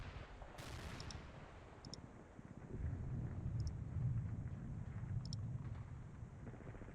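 A single distant gunshot in the war game Combat Mission Final Blitzkrieg, followed by a low rumbling battlefield ambience with faint metallic clinks and soft repeated pings.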